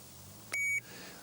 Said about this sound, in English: the electronic alarm will sound